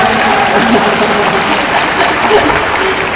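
Outdoor crowd applauding at an open talk during the Busan International Film Festival, a loud, even roar of many hands clapping that holds steady throughout, with no voices above it.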